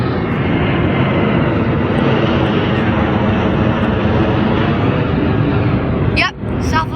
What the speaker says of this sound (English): 737-700 to Phoenix